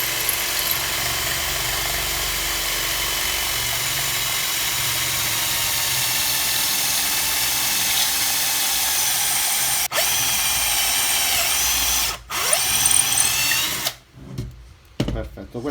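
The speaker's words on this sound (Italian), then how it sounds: "faccio ruotare il trapano già al massimo e vado fino in fondo" A power drill whines steadily at full speed boring a pocket hole into wood for a long stretch, then cuts out with a few short bursts and clatters near the end.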